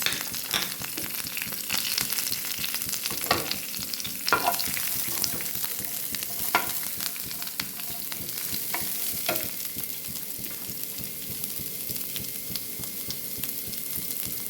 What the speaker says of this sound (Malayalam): കടുകിന് ശേഷം നമ്മൾ ആ എടുത്തു വെച്ചത് യഥാക്രമം ഉള്ളി ഇട്ട് വഴറ്റി കൊടുക്കും